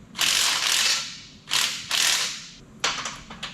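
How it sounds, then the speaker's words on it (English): A hand ratchet loosening the bolts on a Warn winch, several bursts of rapid clicking separated by short pauses, close and clear with no talk. "now we get to take our 2 bolts out"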